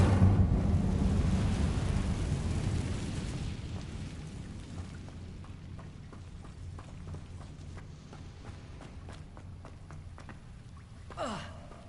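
The Incendio fire spell in Hogwarts Legacy gameplay on PlayStation bursts out as a loud roaring whoosh that fades over several seconds, followed by faint crackles and a brief swoosh near the end.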